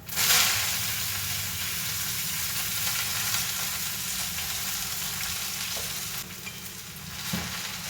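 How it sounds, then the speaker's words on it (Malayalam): Rice and broken dried chilies frying in a pan, a loud hissing sizzle that bursts up at the start, then settles into a steady crackle, with a brief knock near the end. "അരി ഇട്ടു. പിന്നെ നന്നായിട്ട് പൊരിയുന്നുണ്ട് കേട്ടോ"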